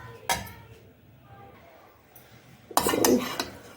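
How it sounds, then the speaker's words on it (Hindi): Cooked rice for dhaba-style daal chawal being served onto a dish, with a couple of clinks and scrapes of a spoon against the plate separated by a quiet pause, close and fairly soft. "मैं चावलों को डिश आउट कर रही हूँ।"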